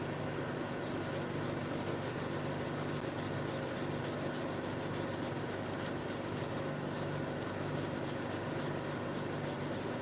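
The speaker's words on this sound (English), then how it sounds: "so the sandpaper only sands the steel." Sandpaper rubbing across a steel knife blade, with steady, continuous back-and-forth scraping strokes, close and fairly loud, with no voices.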